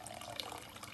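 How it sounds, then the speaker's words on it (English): Warm water poured into a pressure cooker of chickpeas, a steady continuous splashing and trickling stream that runs close and moderately loud throughout, with no talking. "I'll top it up with more warm water and leave it to cook"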